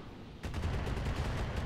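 Mech weapons open fire in the video game Roguetech, a sudden rapid burst of crackling shots that starts after a brief quiet moment and keeps up loudly to the end.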